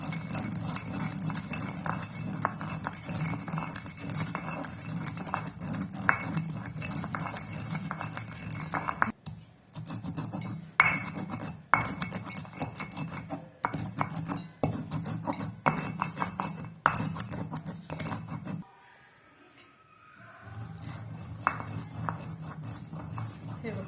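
Wet rice is ground in a South Indian stone mortar and pestle (khalbatta), giving a steady run of close stone-on-stone knocks and clinks with a low rubbing hum under it and a brief pause near the end.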